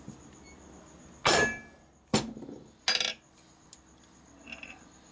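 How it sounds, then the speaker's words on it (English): A lead hammer strikes the flywheel of a 1990s Harley Evo lower end three times, producing sharp, ringing metallic taps spaced about a second apart. Between the strikes the shop is quiet, with a faint clink near the end. "See the lead flywheel? Lead hammer?"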